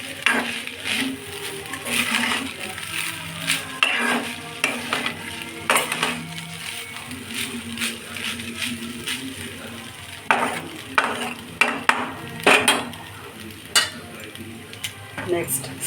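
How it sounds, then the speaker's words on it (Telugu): A spoon stirs lemon rice in a frying pan, giving irregular scraping and clinking strokes against the metal over a soft sizzle, close and moderately loud. "కొంచెం కలుపుకుందాం."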